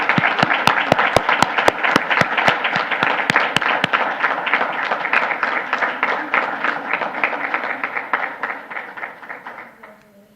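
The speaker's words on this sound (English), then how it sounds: "Please give her a big round of applause." Applause at a school board meeting honoring a graduating student: a few sharp individual claps open into a steady round of clapping from the room that gradually thins and fades out near the end.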